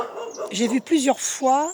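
Dog barking behind a fence, loud nearby barks and whining yelps mixed with a person speaking French over it.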